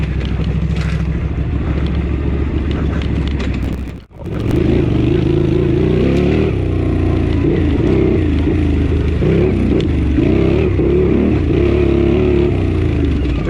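Honda CX500 motorcycle engine on a harescramble dirt course, loud and close, holding a steady growl, briefly cutting out, then revving back up and droning on with rising and falling pitch.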